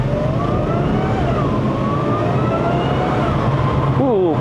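A supercharged 3.0-litre V6 in an Audi A6 C7 with a seven-speed S tronic gearbox and quattro, climbing the Genting road in Malaysia: a loud, steady engine drone with harmonics that rise as it revs, under a speaking voice.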